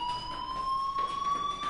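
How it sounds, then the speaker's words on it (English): Steady electronic fire alarm tone from the video game Life is Strange, a continuous high pitched whine with faint harmonics, droning without a break at a constant level. "do you hear that fire alarm?"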